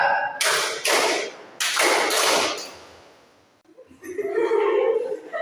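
Hands clapping in a combined pattern of two-clap and three-clap groups, sharp bursts in quick pairs and clusters, followed by a murmur of voices.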